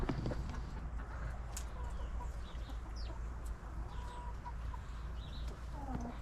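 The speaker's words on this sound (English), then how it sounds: "Our chickens are loving them too, the ones that fall to the ground." Backyard chickens clucking steadily with scattered soft calls over a low background rumble, moderately close and not loud.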